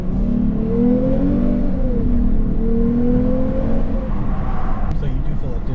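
A 2023 Lexus RC 350 F Sport engine pulls up through the gears with a sustained, rising drone and stepped shifts from the paddle shifters, heard from inside the cabin at steady volume.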